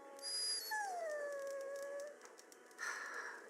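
A dog in the video game Dragon Age Origins gives a high, drawn-out whimpering whine that bends downward, then a short second whine, with no talking.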